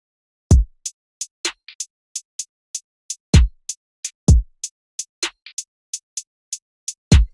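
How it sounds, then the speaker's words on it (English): A programmed UK drill drum beat: deep kicks, sharp snare hits and a steady ticking hi-hat pattern, crisp and close with no other sounds. "kick, the snares, and the hi-hat sounds like this together."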